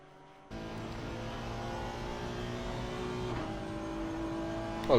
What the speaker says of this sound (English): A lovely sounding car as well.